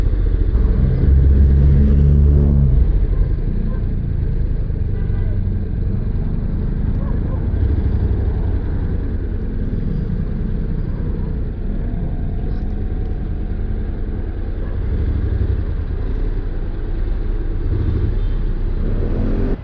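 A Honda X-ADV 750 scooter fitted with a fake Yoshimura exhaust pipe runs with a steady, deep rumble, loud and close, briefly swelling at the start, then holding an even idle-like drone.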